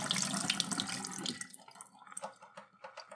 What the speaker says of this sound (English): Maybe rinse your can opener off a little bit.